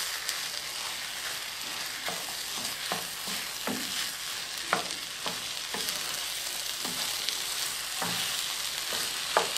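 Msemen filling stirs and fries in a pan, a close, constant sizzle broken by regular scraping strokes of a utensil against the pan.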